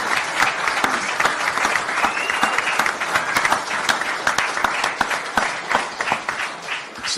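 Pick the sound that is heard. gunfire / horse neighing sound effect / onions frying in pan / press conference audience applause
press conference audience applause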